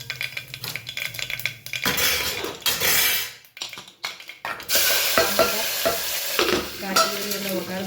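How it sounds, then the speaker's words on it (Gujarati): Mustard seeds and a pinch of asafoetida hit hot oil in a pan for a Gujarati tempering, giving a close, steady sizzle with crackling, stirring and clinks of a spoon against the pot. "તેલ આપણું થઈ ગયું છે, એમાં આપણે રાઈ એડ કરીએ."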